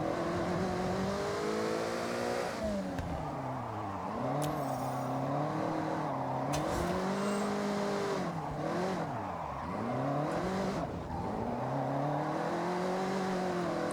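An AE86 slides sideways through corners in Forza Horizon 6, its engine revving loud and steady with rising and falling pitch as it drifts, tire squeal mixed in and short shifts breaking the drone throughout.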